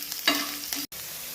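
Chopped green chilli hits hot oil while tempering vaghareli khichdi, a brief close hiss that swells when the pieces drop in, with stirring scrapes and a sharp cut near the end.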